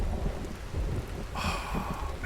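Thunder and rain in a video game: a steady downpour hisses over a deep, rolling thunder rumble, close and continuous, with a brighter rain texture swelling partway through.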